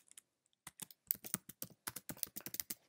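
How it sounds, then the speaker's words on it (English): Someone types on a computer keyboard, a quick run of crisp close key clicks in uneven bursts with a short pause near the start, quiet and alone. "so I'm just going to type in the text that I want."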